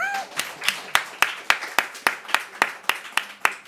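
Congregation at a church lecture claps in unison, about a dozen sharp, evenly spaced claps in a steady rhythm, fairly close and distinct, with a brief voice at the very start.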